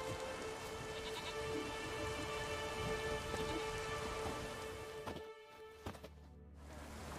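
Steady, dense rain falls in The Witcher 3's Skellige isles, an even hiss filling the whole stretch with no voices, thinning briefly near the end.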